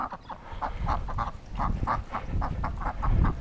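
A person imitates a duck with a series of nasal, honking quacks in an uneven rhythm, close and fairly loud against a rumbling background.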